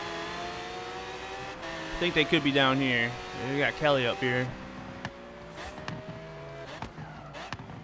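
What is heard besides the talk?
car engines in Forza Horizon 3 video game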